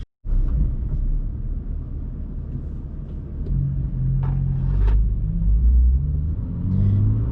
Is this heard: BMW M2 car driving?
yes